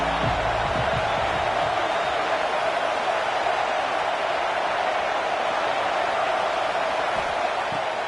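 A dense roar from a football stadium crowd fills the air as a steady, even wash of noise, continuous and loud without distinct individual shouts.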